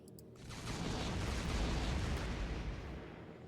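A delivery cannon fires in Factorio Space Exploration as a deep, rumbling boom that swells over half a second and then rolls on as a sustained low roar, fading slightly toward the end.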